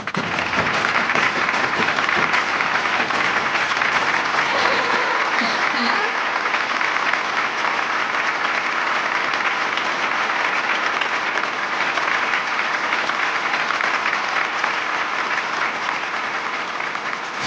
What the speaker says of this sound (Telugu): ఆ ఉత్తమ కోడళ్ళు ఒకసారి పైకి లేస్తే వారిని చప్పట్లతో సత్కరిద్దాం.